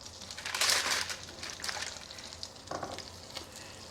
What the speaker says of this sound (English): So I'm just going to slide a couple of these cakes into that melting butter.